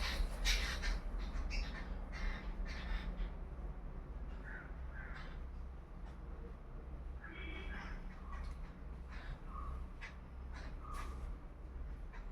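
Crows and treepies call at an outdoor feeding spot where birds gather to eat, with scattered harsh caws and chattering squawks rising over a steady low background hum, some calls near and others farther off.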